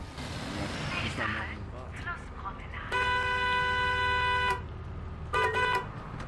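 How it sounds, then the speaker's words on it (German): A bus horn in the Bus Simulator game blares twice, first as one long loud honk and then as a shorter blast, over steady engine rumble, with a voice talking beforehand. "Einmal laut hupen und jetzt ist er weg."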